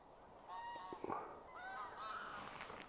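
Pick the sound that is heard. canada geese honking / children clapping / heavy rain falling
canada geese honking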